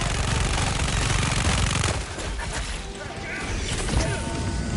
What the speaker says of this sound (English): I love the mod of A10 sounds, the strafing run